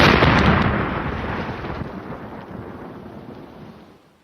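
A sudden, loud explosion effect for a man bursting apart, a broad booming blast that rumbles and slowly fades away over about four seconds with no voices.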